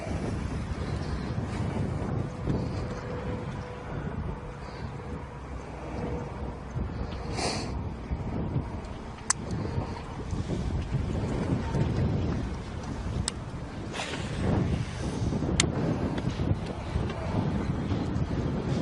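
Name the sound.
strong south wind blowing over a lake, wind noise on microphone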